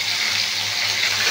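Vegetables such as green banana (kanchakola), bottle gourd stems and potato hitting an onion-tomato spice masala in a pan, giving a steady broadband sizzle with a low hum beneath, close and continuous without talk.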